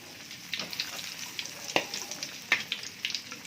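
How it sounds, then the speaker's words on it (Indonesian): Pieces of gabin, a cracker snack, frying in oil over low heat without any egg coating: a steady soft sizzle with scattered light pops and crackles, close and fairly quiet. "Ini menggorengnya tanpa dikasih telur ya."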